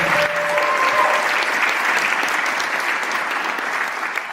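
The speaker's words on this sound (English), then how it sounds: "Can I please have an applause for him?" Delegates at a General Assembly council meeting break into applause, a broad, even wash of many hands clapping that holds steady throughout and tapers slightly at the close.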